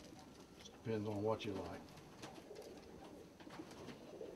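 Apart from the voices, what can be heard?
collar moorhead pigeons cooing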